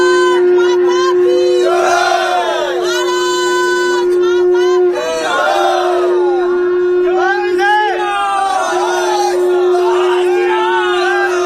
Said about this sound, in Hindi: ये भीड़ और ये शोर और ये शंखनाद।